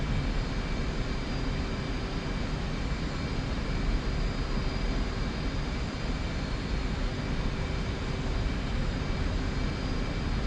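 An F/A-18C jet engine runs at high throttle in a flight simulator, a steady, even roar with a faint whine, unbroken and unchanging from start to finish.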